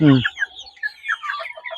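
Native country chickens at a poultry sale give a quick series of soft, close clucks after one louder opening call.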